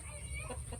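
Chickens cluck briefly at a backyard coop, heard faintly at a distance over a steady low background hum.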